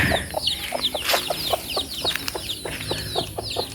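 Several chickens cluck and chatter continuously nearby, busy overlapping calls with occasional sharper squawks, no talking.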